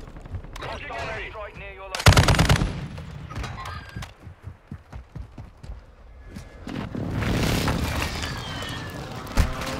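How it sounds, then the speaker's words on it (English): Video game gunfire from a firefight around a gas station: bursts of shots and rapid automatic fire, loud and close, with a dense barrage late on and a voice talking in between. "Mike, you're getting shot at from gas station"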